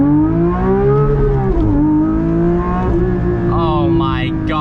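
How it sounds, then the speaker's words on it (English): A manual Porsche 992 GT3 engine pulls hard and loud under sustained acceleration, its revs rising and dipping through what sound like gear changes, with a brief higher-pitched whine near the end. "All right, let's give this thing some gas."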